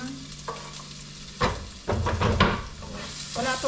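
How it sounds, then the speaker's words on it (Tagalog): Onion and garlic sautéing in a pan for beef caldereta: a steady sizzle of frying with intermittent scraping and stirring strokes of a utensil. Close, moderately loud, with no talk. "Tapos gigisahin natin yung ating garlic. Onion muna guys."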